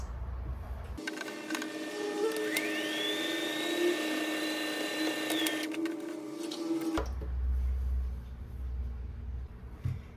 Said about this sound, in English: I like to take a moment and just do a little top stitching right there